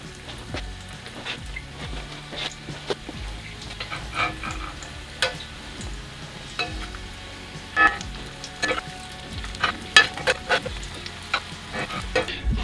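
Gyoza dumplings frying in a hot skillet give a soft, steady crackle with scattered pops and occasional knocks and scrapes of a utensil, growing a bit busier toward the end.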